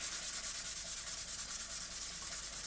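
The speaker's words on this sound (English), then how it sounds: "we're going to come along with a sanding sponge now and just repeat." A sanding sponge rubs steadily back and forth over a plastic 1/48 Italeri Seahawk scale model, making a quiet, close, even scratching with a regular stroke rhythm and no talk.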